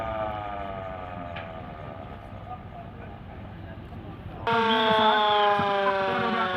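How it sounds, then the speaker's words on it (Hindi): A loud wailing air raid warning siren drones steadily during a civil defence mock drill, then a second, stronger siren tone cuts in, with voices audible underneath. "ये सायरन बज रहा है ऊंची आवाज में"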